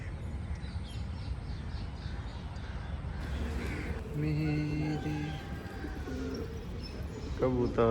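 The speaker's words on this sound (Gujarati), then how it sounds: "કબૂતર છે ને વરા." Pigeons coo near a cattle shed by the Tapi river, soft repeated throaty calls over a rumbling outdoor background, with a few other bird calls toward the end.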